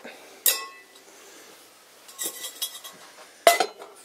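Metal cookware from a Stanley cook set clinks and clatters on a stove in a few sharp bursts, with quieter handling noises between them, close by and with no talking.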